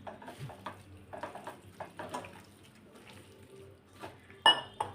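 Wheat flour punugulu batter is stirred in a bowl, with irregular light clinks and scrapes of a spoon against the dish and a louder clatter near the end.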